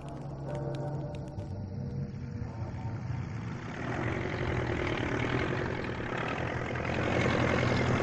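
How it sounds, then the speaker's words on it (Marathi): Low, continuous rumble of a tractor engine idling nearby, growing slightly louder toward the end, with a few faint clicks early on. "ट्रॅक्टर आण"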